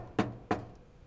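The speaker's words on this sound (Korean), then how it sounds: "승준은 그 소리가 나는 칸으로 다가가 노크를 하는데" Two sharp knocks land on a restroom stall door, spaced about a third of a second apart, close and fairly crisp in a quiet, slightly echoing space, with no talking.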